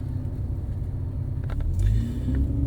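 A car moving past outside a PCR test centre in Khawaneej, a steady close low engine rumble that swells slightly as it goes by.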